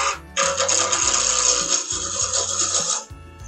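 A woodturning tool rides its bevel and cuts into a spinning wooden piece for a holiday gnome on a lathe, giving a close, continuous raspy shearing hiss that lasts about three seconds before stopping.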